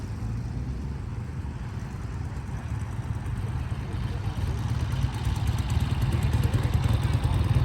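Several motorbikes idle and roll into an outdoor parade arena at a vintage show, a steady low engine rumble that swells slightly louder toward the end, with some talk in the background.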